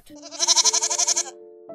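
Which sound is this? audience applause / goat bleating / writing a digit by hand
goat bleating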